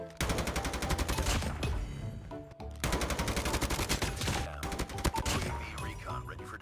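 M4 rifle gunfire from the Call of Duty Mobile game comes in rapid automatic bursts, sustained and dense, with a brief gap partway through before the firing resumes.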